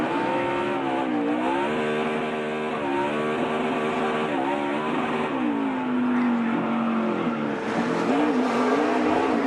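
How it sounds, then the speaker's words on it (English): Stock car engine revving and sweeping up and down in pitch through a drift, loud and close, with repeated rising and falling tones and faint tire noise, no voices heard. "Drifting is a really hard thing to do."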